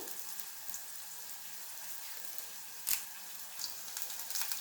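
Curry leaves hitting a hot pan for rasam, a faint continuous hiss and crackle with a brief sharper spit near the middle and light sputtering toward the end.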